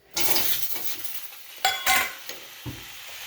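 Onion and tomato fry in oil in a pan for peanut chutney. A spoon stirs with close scraping and clinking over a soft sizzle, with no voices.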